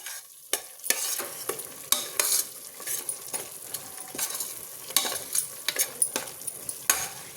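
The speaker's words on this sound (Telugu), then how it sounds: "ఇప్పుడు ఒకసారి అంతా బాగా కలుపుకుందాం." Fried green masala being stirred in hot oil for chicken donne biryani, with a spoon repeatedly scraping and clinking against the pot over a light sizzle, close and steady, without talking.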